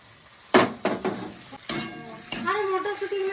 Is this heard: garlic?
yes